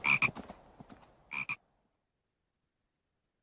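A frog croaks in a few short, close bursts, then falls silent.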